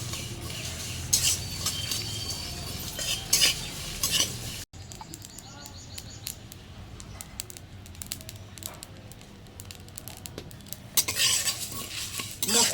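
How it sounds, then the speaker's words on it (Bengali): Whole cumin, coriander, mustard, fennel and nigella seeds sizzle and crackle in hot oil in a pan, stirred with repeated metal scrapes and clinks throughout, the frying hiss loud at the start and end and quieter in the middle. "মশলাগুলোকে একসঙ্গে ভালো করে ভেজে নেব"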